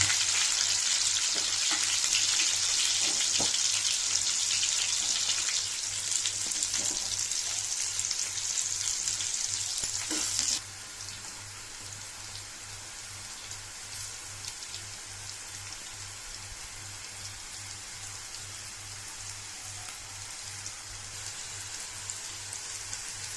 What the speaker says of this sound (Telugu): లైట్గా ఫ్రై చేయాలి.